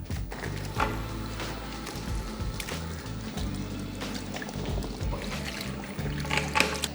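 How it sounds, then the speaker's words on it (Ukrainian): Warm water runs over bleached hair as shampoo is rinsed out, a soft continuous splashing and trickling with squishy handling sounds, close and fairly quiet. "Зараз наступний крок ми змиваємо шампунь ретельно теплою водою"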